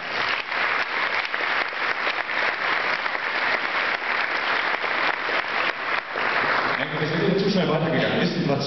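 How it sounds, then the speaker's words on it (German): Applause at a university election-check event with candidates for the Bundestag in Aachen, a large audience clapping densely and steadily for several seconds, then a voice speaking as the clapping thins near the end. "Einen Applaus für Fragen."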